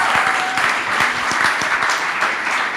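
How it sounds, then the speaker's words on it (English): A conference audience in Basel gives a big round of applause after a stage conversation, a loud, continuous roar of many hands clapping throughout, with no talking over it. "let's give Joel a big round of applause"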